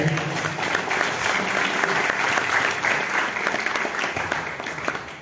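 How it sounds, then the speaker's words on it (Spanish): Audience at a tribute event in Chimbote applauds a professor about to speak, steady loud crowd clapping sustained for several seconds and tapering slightly at the end. "Fuerte los aplausos, por favor, para él."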